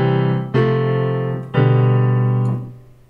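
An electronic keyboard recorded directly into FL Studio sounds three sustained notes or chords, each struck about a second apart and ringing clearly before the next, loud and dry with no voices.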